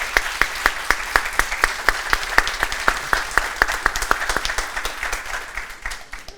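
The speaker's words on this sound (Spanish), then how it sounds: "un aplauso para nuestro invitado, por favor" A studio audience at a television talk show claps for a guest, a rhythmic run of evenly spaced loud claps that blur into denser applause and then fade slightly toward the end.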